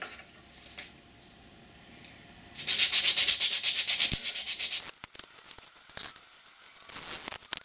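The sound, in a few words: hand sanding wooden blocks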